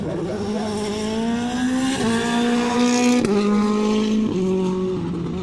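A WRC rally car does donuts at Cholmondeley Castle, its engine revving loudly and near in repeated rising surges with sharp gear shifts and brief tire squeal, held at high pitch throughout.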